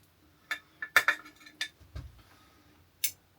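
Metal utensils clink against dishes and a pan while bacon and eggs are plated at a camp stove, a handful of sharp, separate taps and scrapes close by, with one soft low thud.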